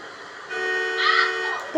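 A car horn in Grand Theft Auto V toots briefly, a steady tonal honk over faint background noise, fairly close.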